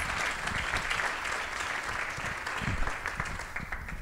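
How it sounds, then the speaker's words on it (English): An audience at a nonprofit awards ceremony claps in steady, dense applause that fills the room for the whole stretch, with no talk over it. "Let's give her a big round of applause"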